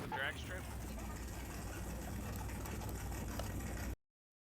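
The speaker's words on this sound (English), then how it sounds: "Can I hear that little engine?" A small car engine running loud and close in Car Mechanic Simulator 2021, a steady droning hum that holds through the clip before cutting off abruptly.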